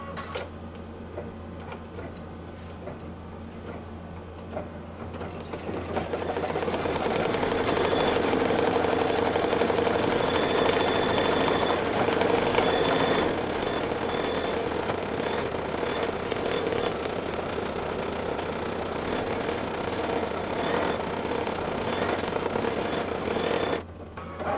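An embroidery machine stitches a Kimberbell Bethlehem Nativity Christmas ornament, a steady rapid mechanical whirring and tapping that starts after a quiet stretch of about five seconds and then runs continuously and evenly for most of the clip.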